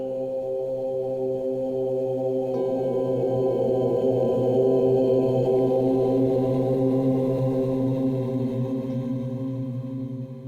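A steady 528 hertz tone with layered harmonic drones holds evenly for about ten seconds, swelling slightly after the opening and sustaining smoothly without any voice.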